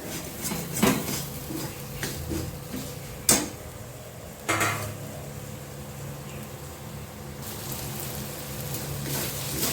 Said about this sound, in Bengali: সরষে বাটা, এরপর দিয়ে দেবো ভেজে রাখা আলু